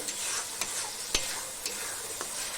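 Ginger-garlic paste, made from ten garlic cloves and an inch of ginger, fries in a pan for chicken curry, giving a bright, continuous sizzle broken by several sharp spoon taps and scrapes.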